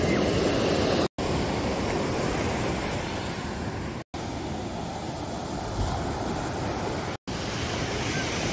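Ocean waves wash over the beach at San Juan del Sur, Nicaragua, a steady, loud roar of surf mixed with wind buffeting the microphone, briefly cutting out twice.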